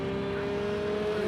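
Racing cars in a Global GTE championship sim race at the Red Bull Ring, including a Porsche, drone steadily with a sustained engine tone throughout, a continuous mid-distance roar without clear rise or fade.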